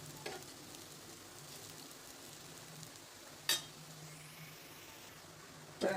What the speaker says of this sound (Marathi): छान भाजून घ्यायचे